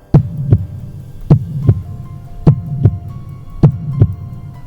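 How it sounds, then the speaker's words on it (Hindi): A heavy, steady heartbeat thumps in paired lub-dub beats over a low hum, repeating evenly as a horror story sound effect. "इमरान का दिल जोर जोर से धड़कने लगा।"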